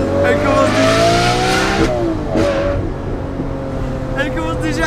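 Sports car accelerating hard, its engine note climbing in loud harmonic sweeps, then a shift and rising pitch again, with crackling exhaust pops on the downshift near the end; voices are faintly under the engine.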